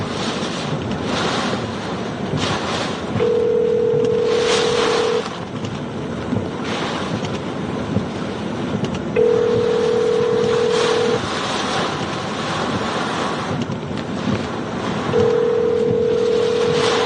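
Telephone tones sound while a call is being transferred during a hurricane flash flood emergency, three steady beeps of about two seconds each spaced several seconds apart, heard over constant loud wind and rushing storm noise.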